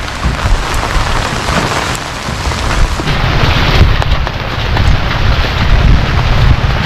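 Heavy typhoon rain pours steadily and loudly, a dense continuous hiss of drops hammering surfaces up close, growing slightly heavier partway through, with no voices.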